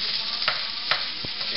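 Turkey frying in a mix of canola and extra virgin olive oil gives a steady, close, broadband sizzle, with a few brief soft knocks from stirring.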